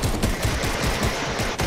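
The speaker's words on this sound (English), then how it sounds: "Yeah, this is real gunfire right here." Rapid automatic gunfire from the video game Fortnite rattles loudly and steadily through the whole short burst.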